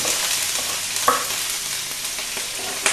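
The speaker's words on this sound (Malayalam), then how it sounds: "എണ്ണ ചൂടായി കഴിഞ്ഞ് ആദ്യം ഇഞ്ചി, അത് കഴിഞ്ഞ് പച്ചമുളക്," Ginger and green chili frying in hot sunflower oil for gobi manchurian, a steady close sizzle with a few sharp spatula clinks and stirring scrapes, no talking.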